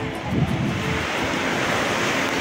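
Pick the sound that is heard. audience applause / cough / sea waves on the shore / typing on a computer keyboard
sea waves on the shore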